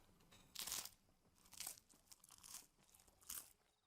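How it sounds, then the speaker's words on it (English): In Final Fantasy XVI, bread from a tavern is bitten and chewed with four crisp crunches spaced about a second apart, each burst short and bright against near silence. "Those are some nice crunching sounds."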